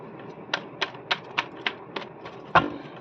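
Tarot cards being shuffled: a series of about eight crisp, evenly spaced taps and flicks, fairly close and clear over a quiet background, ending with a sharper snap.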